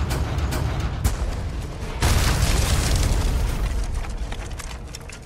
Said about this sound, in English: gotta say, these cannons really have some stank on them